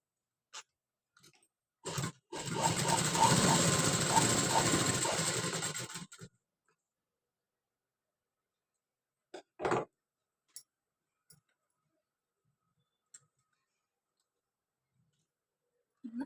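A sewing machine runs in one steady four-second burst while stitching the back part of a high collar neck, followed by scattered faint ticks and clicks in near silence.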